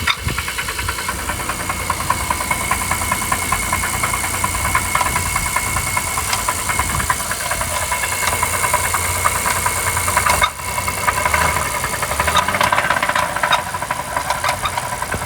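A failing GM 6.2L L87 V8 runs steadily and loudly up close, with a continuous rattling knock and a mechanical clatter throughout and no voices.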